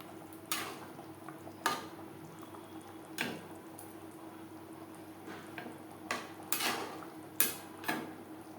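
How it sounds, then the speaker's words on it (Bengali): Fish and fish heads being stirred into a simmering curry gravy in a pan, quiet bubbling broken by sharp irregular clinks and scrapes of a spoon against the pan, nobody talking. "গ্রেভির সাথে মাছ বেশ ভালো করে মিক্সড করে দেব গ্রেভির সাথে মাছ আরও তিন চার মিনিট রান্না করব"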